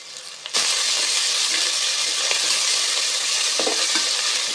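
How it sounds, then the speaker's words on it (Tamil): Onions sizzle steadily in a hot pan, a loud continuous frying hiss that starts abruptly, with a few soft scrapes of stirring. "வெங்காயம் நல்லா வதங்குத்துங்க"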